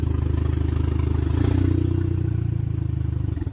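Audi A4 project car engine idling right after a restart, a steady close low rumble with a faint rise in revs partway through and no talking.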